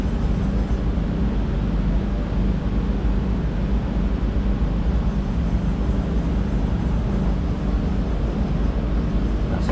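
Takisawa EX lathe axes traversing in manual mode, a steady broadband whirring machine drone with constant level and no speech.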